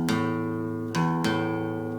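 Guitar strings picked unevenly so the notes fail to land together as one chord, with ringing tones broken by a few staggered, scrappy pick attacks, solo and close.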